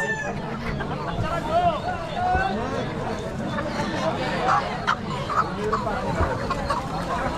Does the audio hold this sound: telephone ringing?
no